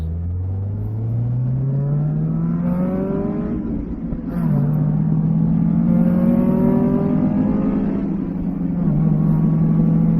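A Honda Del Sol with a broken speedometer drives along, its engine note climbing steadily through the gears, with two upshifts that drop the pitch before it rises again, loud and close from inside the cabin, with no talking.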